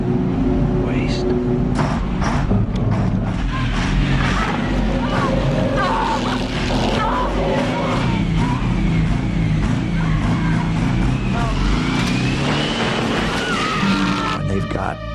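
A truck engine revs hard under loud, continuous noise with wheels spinning and skidding in a film scene, the roar sustained throughout with a voice talking in places.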